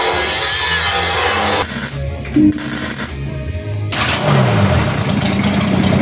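A car engine in a workshop shed cranks and catches, then revs up and settles into a close, loud, rough running note.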